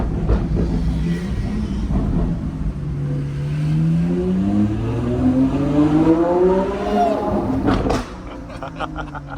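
A stock sports car, one of a group including a Carrera GT, 918 and 812, drives with a loud, droning exhaust that climbs steadily in pitch through the gears before dropping off near the end; no one speaks.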